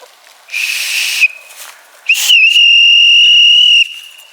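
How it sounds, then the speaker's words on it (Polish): A man whistles loudly twice, first a short high burst, then after a pause a longer sustained piercing tone held for over a second, outdoors with no talk over it. "Może pan gwizdnąć?"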